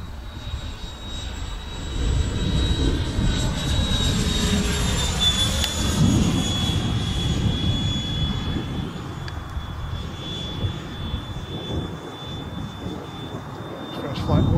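A Freewing T-33 Shooting Star RC jet on its first flight, a steady high electric ducted-fan whine with a roaring rush that holds throughout. People talk quietly over it.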